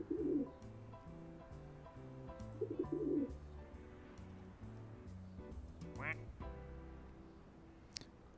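A plastic toy duck gives soft pigeon-like cooing calls, repeated a few times in short bursts, with a low musical hum underneath and brief rustling between them.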